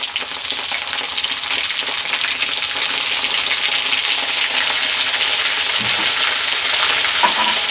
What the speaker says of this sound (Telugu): ఆనియన్స్ ఇలా గోల్డెన్ బ్రౌన్ కలర్ ఫ్రై అయినాక చికెన్ వేసేసుకోవాలి.